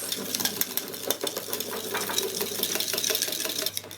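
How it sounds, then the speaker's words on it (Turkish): Whipped cream powder being beaten into half a glass of cold milk, most likely with an electric mixer, giving a steady close buzzing whir with faint rattles and clicks throughout. "Yarım su bardağı soğuk süte bir paket krem şanti koyuyoruz. Ve çırpıyoruz."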